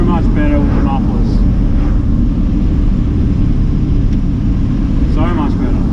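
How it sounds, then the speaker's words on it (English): A Holden XG ute with boost and 4-inch straight-through mufflers drones with a deep, steady exhaust rumble from inside the cab, loud and constant, while someone talks briefly near the start and end. "They're still 4-inch straight through mufflers, so it should just take the edge off it."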